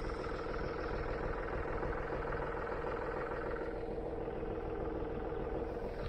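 John Deere 5055 tractor running in a field during spring tillage with a cultivator and disc, a steady low engine drone at moderate distance, continuous and even with no voices.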